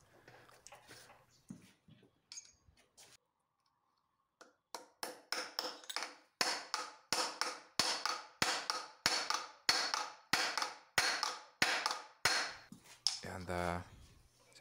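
Repeated sharp hammer blows strike a seized, damaged bolt on an Alfa Romeo V6 Busso engine, about a dozen loud metallic hits in a steady rhythm after a few quieter taps and a pause.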